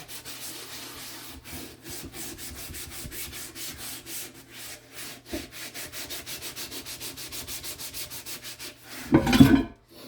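A sponge scrubs bacon grease off dishes in rapid, repeated rubbing strokes, close and fairly soft, with a short louder scrape near the end.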